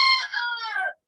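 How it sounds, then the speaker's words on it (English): A single rooster crows once, close and clear, a bright strained call that rises then sags and cuts off in just under a second, followed by silence. "sounds like one of my roosters got out"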